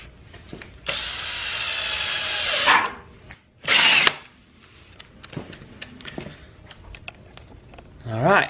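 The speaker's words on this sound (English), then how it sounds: "very gently try to drill the hole while the pieces are perfectly lined up here" A power drill runs in a sustained burst to bore a hole through lined-up vinyl plank flooring pieces, then gives a second shorter whir, followed by light tapping and handling noises nearby.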